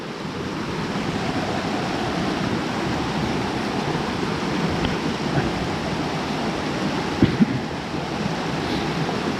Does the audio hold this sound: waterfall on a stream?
yes